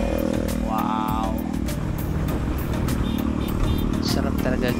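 A motorcycle cruises along a seaside road near Sergio Osmeña, Zamboanga del Norte, its engine droning steadily up close under constant wind rush, with a brief higher rev early on.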